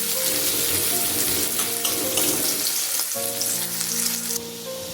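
A steady, loud sizzle of chopped onion frying in hot oil, continuous throughout with faint clinks and stirring sounds near the end.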